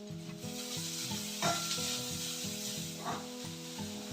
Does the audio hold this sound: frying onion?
yes